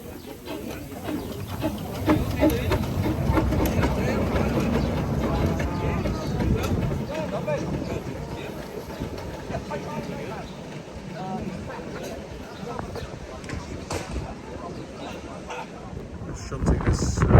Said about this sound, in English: Shunting this into the shed.